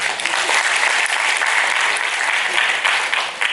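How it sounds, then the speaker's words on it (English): Audience applause for a student at a talk, dense and steady clapping from a crowd that stays loud for a few seconds. "Nikhila, round of applause for Nikhila."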